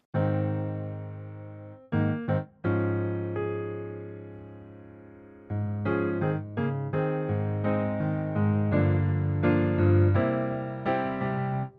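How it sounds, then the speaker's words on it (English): Solo piano intro of a song plays sustained chords, with a brief pause near the start, then a rhythmic run of repeated chords that ring out clearly with no voices. "The song starts out with an iconic piano intro."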